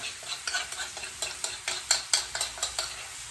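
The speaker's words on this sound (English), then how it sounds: "So with what's left over in your base, don't waste that. Give it a good scrape." A spatula scrapes the base of a hot pan where tandoori goat chops sizzle, with close, repeated scraping strokes in a steady rhythm over a constant frying hiss and no talk.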